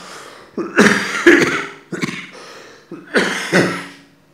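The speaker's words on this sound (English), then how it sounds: "there'll be a bit of coughing and spluttering through the speech because I'm battling a very bad cold and cough" A keynote speaker with a very bad cold and cough coughs and splutters at a lectern, giving a few close, rough, throaty bursts that rise and trail off between pauses.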